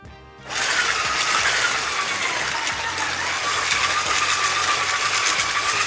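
Thick pizza rustica filling is mixed by a machine that starts after a short pause and then runs with a loud, steady motorized whir and churning, close by and without speech.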